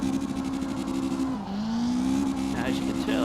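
A car drifting without controller assist in CarX Drift Racing Online, with a steady engine drone that dips and climbs again and tire squeal near the end, under a person talking.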